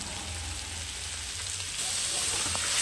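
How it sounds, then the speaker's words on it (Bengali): Fish and previously fried okra sizzle with spices and chilli powder in a pan, a steady close hiss that swells louder toward the end, with faint stirring and no voices. "ভালো করে মাছটাকে আমি মশলার সঙ্গে ভেজে নিচ্ছি"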